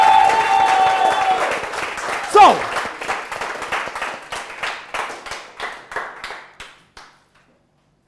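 Studio audience applause on a game show, steady clapping from a crowd that tapers into a few separate, slowing claps before falling silent, with a brief spoken word early on.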